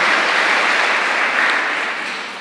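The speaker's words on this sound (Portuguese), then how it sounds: "Uma salva de palmas para as nossas crianças." A church congregation applauds children during mass, a dense, steady wash of many hands clapping close and loud, easing off slightly toward the end with no speech over it.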